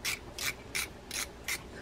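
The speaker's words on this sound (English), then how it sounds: "I'm using a little palm driver here with a Torx screw bit." A small palm driver with a T10 Torx bit turns screws while servicing an Okuma Metaloid 5NS lever drag fishing reel, giving five evenly spaced bursts of close, crisp ratcheting clicks.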